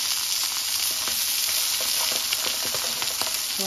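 Chicken pieces sizzle and crackle steadily in a hot pan after being flipped to brown on both sides, a dense continuous frying hiss with small pops throughout and no talk.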